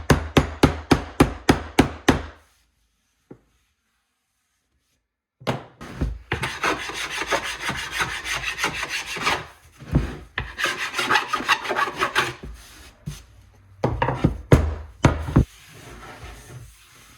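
A quick run of sharp rhythmic taps, a long silence, then bursts of coarse rasping filing strokes on metal staples in a round stool seat, interspersed with knocks, close and loud.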